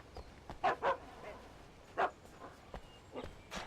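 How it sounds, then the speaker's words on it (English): In the video game Alan Wake, a dog barks several times, faint and somewhat distant, in short bursts over a quiet, echoey background. "Oh, there's a dog."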